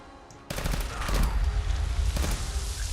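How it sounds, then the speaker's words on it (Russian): Pistol shots in Fallout 4: a quiet lead-in, then a sudden loud burst of gunfire at half a second, a dense close volley with a second sharp crack near the two-second mark, ringing out with no talking. "Как вот стреляешь, вроде обычный пистолет."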